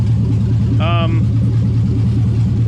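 A swapped LS V8 engine runs at a steady idle in a Camaro, a loud, low continuous rumble throughout, with a voice speaking briefly over it.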